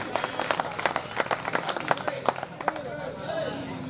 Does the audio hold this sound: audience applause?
yes